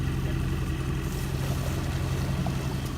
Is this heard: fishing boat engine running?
yes